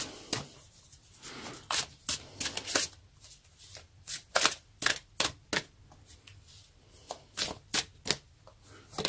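Oracle cards being shuffled by hand and drawn from a deck, a series of quick crisp riffling snaps and slaps in irregular bursts, close and fairly quiet with no talking.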